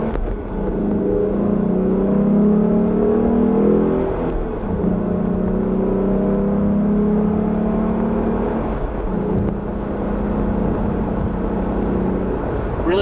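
A naturally aspirated 2016 Ford Mustang V6 revs up and accelerates hard, its engine note climbing and holding loud and close for several seconds, with a brief dip in the middle before it pulls again.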